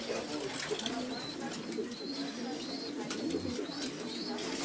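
Breeding pigeons coo softly in a loft, several low repeated calls under a constant background hiss, with faint chirps and rustling; fairly quiet and close.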